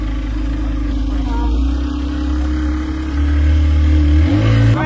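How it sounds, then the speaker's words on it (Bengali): A speedboat engine on Chandil Dam in Jharkhand hums steadily up close, then rises in pitch and grows louder near the end as the boat pulls away. "আমাদের স্পিড বোট ছেড়ে দিয়েছে।"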